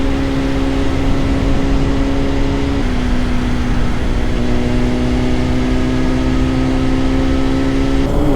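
A Honda CBR 600RR sport motorcycle engine holds a steady high rev while riding on a chilly day, a loud, continuous droning whine with slight pitch shifts and wind rush, no talking.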